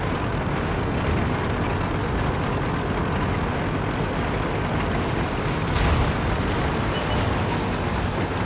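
A tank cannon shot striking an enemy tank in a tank battle video game, heard as a dense, loud, continuous rumbling roar of battle noise with a brief burst partway through.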